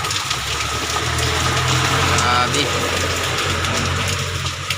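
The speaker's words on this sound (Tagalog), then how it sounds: "Lumalakas na naman yung ulan." Heavy rain pours steadily during the rainy season, heard from inside a tricycle as a dense, loud broadband wash with a low engine-like rumble underneath while someone talks briefly over it.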